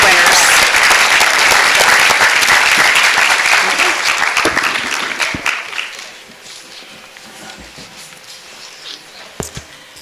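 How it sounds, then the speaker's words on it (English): Applause from an audience at a school district board meeting honoring character award winners, loud and dense for about five seconds before tapering off into scattered claps and quiet room noise. "Let's have one more round of applause to congratulate all of our Pennsbury Lift Character Award winners."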